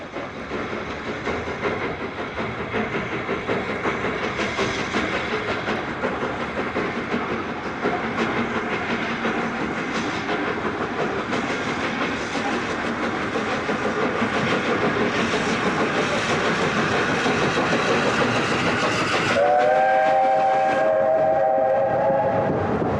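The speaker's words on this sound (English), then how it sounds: "It's now probably the most advanced British steam locomotive ever." A preserved British Railways 8P steam locomotive runs loudly and steadily with a dense rumbling roar. Near the end its whistle sounds, a sustained harmonic tone that comes in over the running noise.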